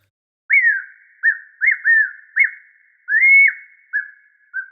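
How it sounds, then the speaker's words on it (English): Synthesizer patch of simple sine-wave animal calls: a series of about eight short, bird-like chirps that slide up then fall, evenly spaced and clear, with no other sound around them. "This patch, Simple Sine Creatures, is a bunch of different animal sounds with a sine wave."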